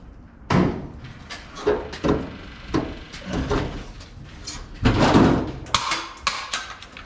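Metal clicks, clacks and thumps come from a pickup truck utility box door being worked, its handle, clip and lock rattling in a quick irregular series of close knocks and latches.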